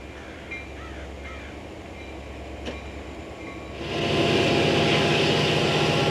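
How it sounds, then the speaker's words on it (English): A Denver & Rio Grande Western ski train rolls along near Tabernash with a steady low rumble that swells into a loud, broad roar partway through, while crows caw faintly early on. "the ski train headed west to turn around on the Tabernash Y"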